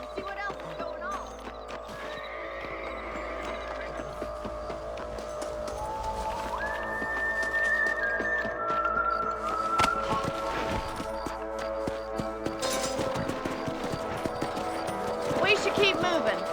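Horse hooves clip-clop steadily through the Red Dead Redemption game, riding along beneath continuous music and ambience, moderately loud, with a brief whinny-like rise near the middle.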